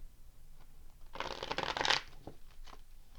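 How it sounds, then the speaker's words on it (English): A deck of tarot cards is riffled once in a dense, crisp flurry lasting about a second, close by, followed by a few soft card taps in an otherwise quiet room. "let me shuffle it just one more time."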